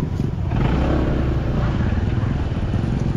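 A motorcycle engine revs and labors under load, failing to pick up speed; a steady rough low rumble runs throughout, loud and close, with some clatter and faint voices around it.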